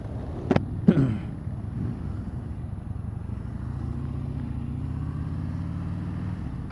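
Two quick clicks, then the low, steady engine rumble of a 2015 Harley-Davidson Street Bob cruiser as it rides along, with a faint rising tone near the end and no talking.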